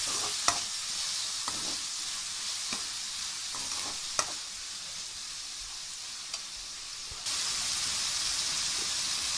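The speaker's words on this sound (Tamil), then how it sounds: "அதுக்கப்புறம் தக்காளி போட்டு தக்காளி நல்லா வதங்கணும்." Tomatoes sauté in a pan for hotel-style veg kurma with green chillies, a continuous frying hiss broken by several sharp spoon scrapes and stirs, the sizzle growing louder near the end.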